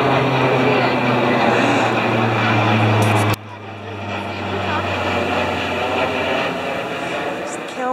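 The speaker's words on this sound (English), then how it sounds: "Those are military planes, probably going to the Air Force Base" Military planes pass overhead near Trenton, and their loud, steady engine roar fills the air before dropping abruptly partway through to a softer drone, with a person talking over it.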